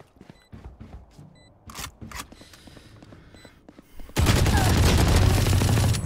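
Rapid video game gunfire fired while running, bursts of sharp shots and footsteps building into a sustained loud fusillade near the end.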